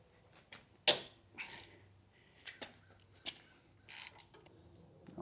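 Ratchet wrench loosening a brake pedal bolt on a Honda Transalp 750 motorcycle, heard as a few separate quiet mechanical clicks and short ratcheting bursts spread over several seconds, close up.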